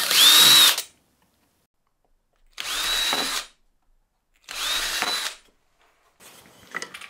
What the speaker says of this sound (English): I'm going to drill a pilot hole because they're quite thin and I don't want to split them.